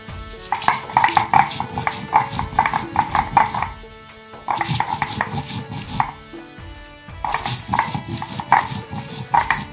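Dried red chillies are ground on a grinding stone with rapid rhythmic pounding and rubbing strokes in three bursts separated by short pauses, close and fairly loud.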